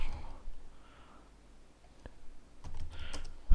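Brief, soft bursts of computer keyboard keystrokes while code is typed, a few quiet clicks scattered across a near-silent stretch and ending in a louder cluster of keys.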